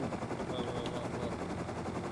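Sustained automatic gunfire in the survival game Rust, a dense, steady rattle of rapid shots that stays loud and unbroken for the whole stretch, with no talking.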